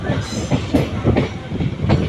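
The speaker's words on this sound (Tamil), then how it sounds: "பாருங்கள் எவ்வளோ அழகாக ட்ரெயின் அப்படியே கிராஸ் ஆகுது பாருங்கள்" A train passes close by at Eriyodu junction on the Dindigul to Karur line, with a loud rolling rumble and repeated rhythmic clatter of wheels over rail joints throughout.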